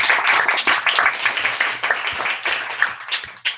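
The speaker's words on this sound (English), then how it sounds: "Let's give him a big applause." Audience applause at a joint club meeting, a steady wash of many hands clapping that swells and dips over a few seconds, fairly close and without talk.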